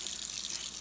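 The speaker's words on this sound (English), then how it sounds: "the first thing we want to do with all these pieces is flush them with plenty of water" A kitchen tap runs into a sink to flush citric-acid-soaked lantern generator parts, a steady faint splashing stream.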